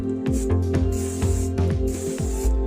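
A refilled spray paint can releases short, repeated hissing bursts, each starting with a clicky valve sound, over a steady low motor hum from the compressor close by.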